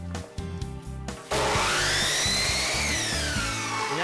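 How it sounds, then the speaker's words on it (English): A miter saw set to a 45-degree angle cuts polyurethane crown molding. It starts with a brief lower whir, then a loud, steady, high-pitched blade whine runs close up to the end of the cut. "slide the saw over to the left 45-degree miter angle and make our cut"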